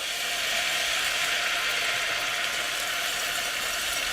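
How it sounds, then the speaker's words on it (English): A whisk beats flour into melted butter inside a cast-iron Dutch oven for lasagne sauce, giving a fast continuous metallic rattling and scraping, close and steady throughout with no voices. "And really whisk it, guys, really whisk it."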